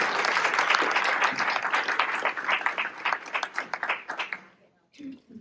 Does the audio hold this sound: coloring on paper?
no